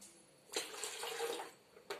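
Water is poured into a cup during a classroom measuring lesson, a steady splashing stream running for over a second before fading, then a short burst at the end.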